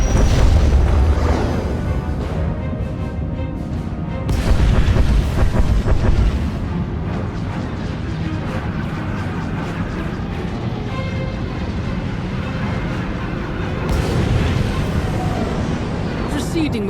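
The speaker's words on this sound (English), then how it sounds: "Proceeding with bombardment." Bombardment explosions in the video game Star Wars: The Old Republic, deep booming blasts swelling at the start, around the five-second mark and again near the end over a constant heavy rumble.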